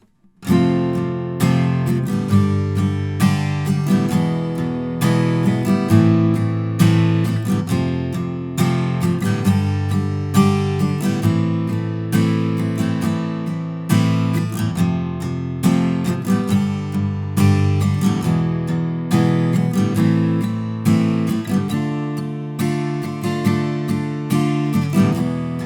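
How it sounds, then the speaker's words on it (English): Electric guitar playing the solo section rhythm of a song, a dense steady stream of strummed chords with regular accented attacks, loud and continuous throughout. "the solo section rhythmically will sound like this"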